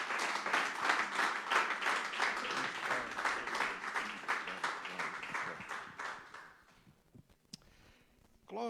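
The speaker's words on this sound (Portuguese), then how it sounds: "Damos um aplauso para Jesus." A church congregation applauds during a Portuguese-language service, with steady, dense clapping for about six seconds before it fades to a few last claps and quiet room noise.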